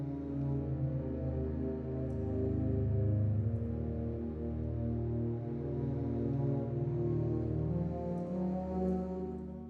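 Sustained hollow-toned string samples from the Spitfire Albion V library, a dense layered chord held steadily and fairly loud throughout, with slow swells and no voices.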